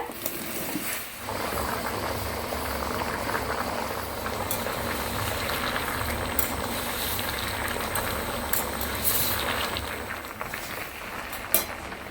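Water heating in a pot, ready for cut potatoes, gives a steady bubbling, simmering wash that carries on evenly and fairly close throughout, with no talking.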